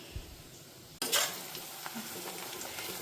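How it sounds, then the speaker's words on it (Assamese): Onions frying in a pan until golden brown. After a quiet start, a sudden sizzle bursts in and settles into a steady close frying hiss with light stirring scrapes, and no talking. "পিঁয়াজখিনি একদম ৰঙচুৱা হোৱালৈকে, মানে গল্ডেন ব্ৰাউন হোৱালৈকে ফ্ৰাই কৰি ল'ম।"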